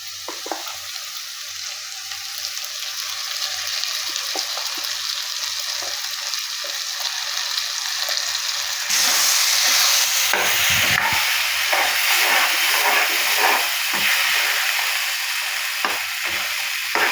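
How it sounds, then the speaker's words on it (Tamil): Ground masala fries and sizzles in a pan for garlic curry while being stirred, a steady hiss that grows louder partway through, with scraping strokes of the spoon and no talk. "நல்லா வந்து மிக்ஸ் பண்ணி விடுங்க."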